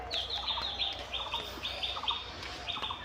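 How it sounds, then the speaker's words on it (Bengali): Repeated high, scratchy chirping calls from an owl chick, close by, coming in quick bursts against a quiet background. "এই গুড়গুড়ি প্যাঁচার বাচ্চা"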